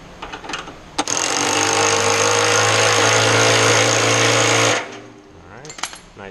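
A tool cranks down the drum ring clamp on a Speed Queen commercial washer during a drum bearing change, giving one loud, steady mechanical whir of about four seconds up close that cuts off sharply, with brief handling clicks before and after.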